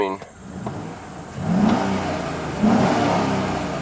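Chevy Silverado pickup truck engine with a crankshaft position sensor fault, idling steadily before swelling in two brief revs, heard close, with a mid-pitched hum and faint background noise.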